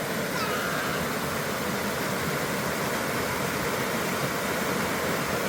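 A flowing stream where a child plays in the water, heard as a steady, dense rush of running water that fills the whole clip at an even level, with no voices.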